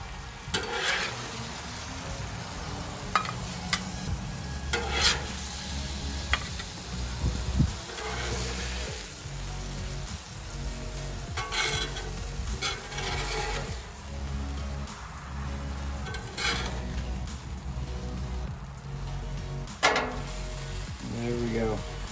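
Shrimp sizzling on a Blackstone flat-top griddle give a steady close hiss, with spatula scrapes and clicks breaking in now and then and some talk in the background.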